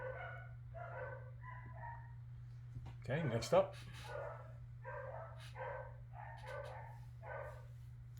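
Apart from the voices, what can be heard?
dogs barking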